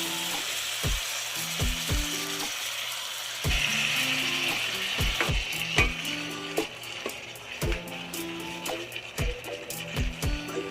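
Chicken adobo simmers in coconut milk with potatoes and carrots, giving a steady sizzling bubble under repeated sharp clinks and scrapes of a utensil stirring against the pot.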